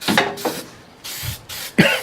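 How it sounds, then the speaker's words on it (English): Spray paint hisses onto a Jeep in several short, close bursts with brief gaps between them. "watch the overspray on the rest of the Jeep"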